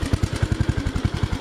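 A lawn mower engine runs close by with a steady, rapid thumping beat of evenly spaced firing pulses, and no voices are heard.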